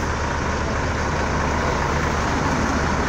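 Truck pulling up at the roadside by a town entrance, its engine a loud, steady, close rumble that holds throughout with no talking.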